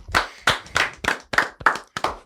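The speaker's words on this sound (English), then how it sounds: "let's clap it up" Several people clap in celebration at an anniversary: about seven sharp, close hand claps in quick, uneven rhythm, loud and clear with no talking over them.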